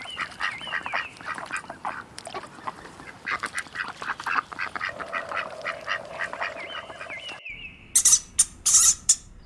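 A duck quacks repeatedly in a busy farmyard, nasal calls overlapping with other bird chatter, then a few sharp, louder calls near the end.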